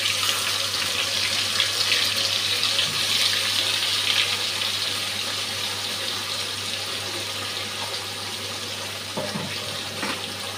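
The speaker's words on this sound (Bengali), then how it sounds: "জল দিয়ে দিচ্ছি।" Water poured into a pan of Bengali pabda fish curry, a steady rushing splash running close and loud the whole time, fading slightly toward the end, with no talking.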